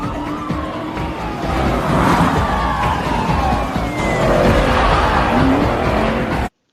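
A police car chase from the film Gone in 60 Seconds: loud, continuous engine roar with wailing sirens and squealing tyres, sustained throughout before cutting off abruptly.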